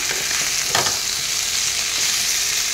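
Mixed vegetable curry stirred in a pan, a steady close sizzle with a few soft scraping strokes of the spoon, no voices.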